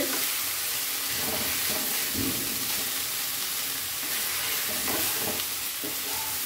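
Fourteen-greens dish (chouddo shaak) for Diwali simmering and reducing in a pan, giving a steady close bubbling sizzle with soft stirring scrapes throughout, no talk.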